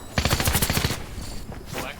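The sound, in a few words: gunfire in a video game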